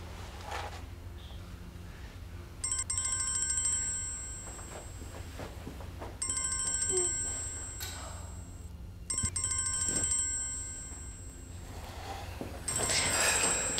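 A phone ringtone rings in repeated bursts of bright electronic tones, three or four rings separated by short pauses, fairly loud over a quiet indoor background.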